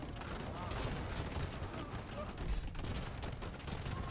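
Hand cannon volleys in an Age of Empires II match between Portuguese and Hindustani armies, a dense continuous crackle of many overlapping gunshots with mechanical clatter, steady and busy throughout.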